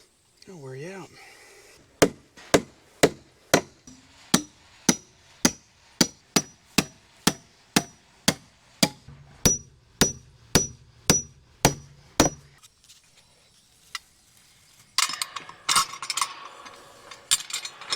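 Large spikes driven into wooden corral posts with a hammer, about twenty sharp, loud metallic blows at a steady rhythm, then a pause and rustling handling noise.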